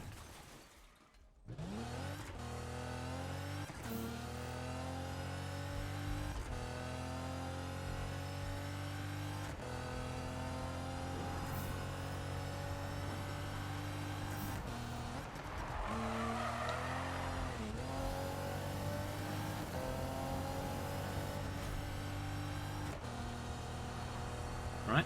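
Race car engine from the Need for Speed video game roars steadily with rising and falling gear pitches, punctuated by tire skids and a brief crash-like burst midway, loud and continuous with no talking.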